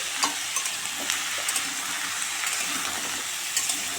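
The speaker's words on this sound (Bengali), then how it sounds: "ভালো করে নেড়ে ফেড়ে দেবো, দিয়ে ঢাকা দিয়ে দেবো।" Spices with salt and turmeric being stirred in a hot cooking pan, continuous sizzling with light scraping taps from the stirring.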